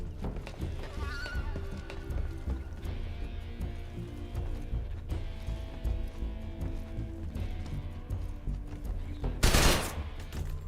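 Gunfire in the action game Lost Souls Aside: a sharp, loud broadband burst near the end stands out over a dense game soundscape of music, hoofbeats and horse whinnies.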